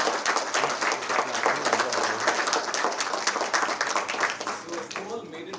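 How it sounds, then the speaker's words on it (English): Audience clapping for the winners at a December 31 gathering, a fairly dense, continuous patter of hands that thins toward the end, with a voice speaking over it. "a huge round of applause for all the winners here"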